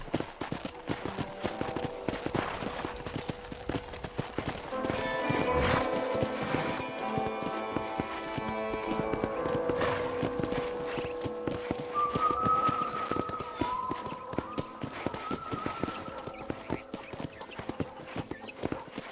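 Rhythmic clip-clop of horse hooves trotting steadily on a ranch in the video game Red Dead Redemption, with tonal game music and occasional chimes layered over the hoofbeats.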